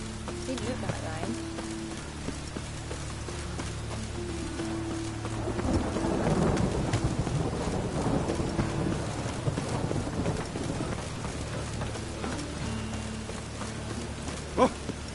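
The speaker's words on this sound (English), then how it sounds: "And it's raining again." Rain falls steadily in The Witcher 3 while thunder rolls through the middle, swelling to a loud rumble before fading, with a sharp crack near the end.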